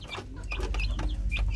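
Backyard chickens and chicks close by, with short clucks and high peeping calls in quick, uneven bursts over a low background hum.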